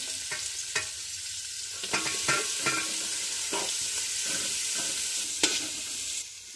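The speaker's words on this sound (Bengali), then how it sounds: "হাঁড়িতে ঘি দিয়ে দিলাম, তবে গাজর ভেজে নিচ্ছি" Carrots fry in ghee in a pot with a steady broadband sizzle, punctuated by several sharp clinks and scrapes of a stirring utensil against the metal, fairly close and with no voices.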